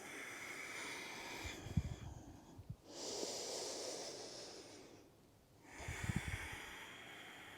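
Slow, deep conscious breaths during a yoga flow, a long hissing inhale and exhale through the nose with soft snorting pulses at the start and end, close and quiet, no talking.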